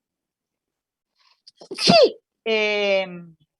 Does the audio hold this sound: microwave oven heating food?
no